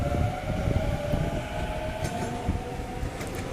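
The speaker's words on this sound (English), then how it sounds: "Here we've got Waratah A49 departing platform number 1." A Sydney Waratah electric train departs a platform at St Leonards station, its steady motor whine and rolling rumble continuous and fairly close, with a brief squeal of wheels partway through and no voices.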